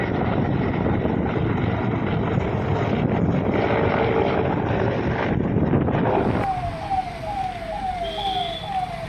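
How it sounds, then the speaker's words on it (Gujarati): The chief minister's helicopter arrives, its loud, steady rotor and engine roar filling the air for several seconds before easing, when a repeating rising siren-like wail takes over at a distance. "એનું વિમાન અને હેલિકોપ્ટરની એન્ટ્રી જોઈ લઈએ"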